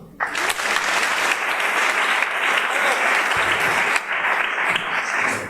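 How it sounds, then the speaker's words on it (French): Theatre audience applause at a French student festival show, dense sustained clapping from a crowd filling several seconds at steady loudness. "On l'applaudit."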